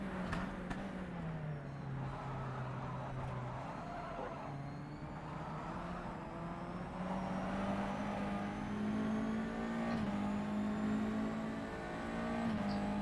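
A race car in rFactor 2 holds a steady, loud full-throttle engine drone on a track in Montreal, with its pitch sliding down and then climbing back up over a constant mechanical whine.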